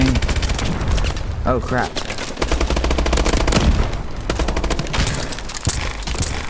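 Rapid game gunfire from Call of Duty: Advanced Warfare's Exo Survival mode, a dense stream of automatic bursts and shots running throughout, loud and close, with a brief spoken exclamation over the shooting.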